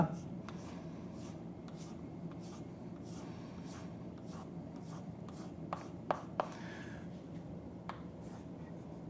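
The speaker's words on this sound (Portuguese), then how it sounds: "Então esse setor aqui de cima, eu vou pintar, vou só achurar de azul" Pen strokes shading a pie chart sector in blue by hand on paper, a soft continuous scratchy rubbing with rhythmic back-and-forth strokes, close and quiet under a faint background hum.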